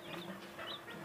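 Hens and their chicks cluck and cheep in a yard, a brief soft patch of overlapping calls at a distance, faint and without talk.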